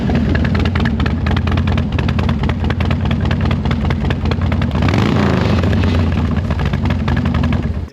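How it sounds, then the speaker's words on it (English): A Harley-Davidson Dyna motorcycle with dual exhaust idles loudly up close, a deep, steady, lumpy rumble with a brief rev partway through, no talk over it. "it has like that dual exhaust sound"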